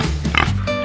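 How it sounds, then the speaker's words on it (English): A pig gives a quick burst of oinks and grunts, close and clear, over a steady low hum, all within about a second. "Let's hear the pig sound."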